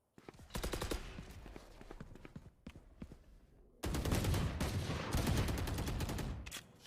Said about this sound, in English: Shooting through the smoke